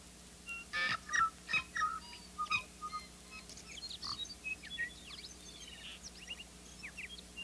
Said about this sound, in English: Listen to the joyous song of the native parson bird